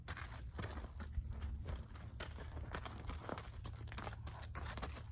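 Horse hooves stepping backward beside a trailer, faint scattered thuds and scuffs on a soft surface over a low, continuous background.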